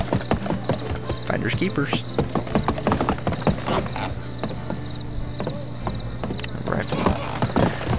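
Horse hooves clip-clop in a steady quick rhythm in the Western video game GUN, mixed with game ambience and insect chirps, while a voice talks over them.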